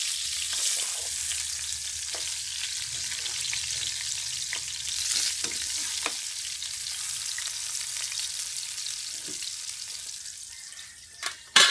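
Vegan steamed egg tofu fries in a pan with a steady, close sizzle and crackle throughout, broken by occasional stirring clinks and a sharper utensil knock near the end, with no talking.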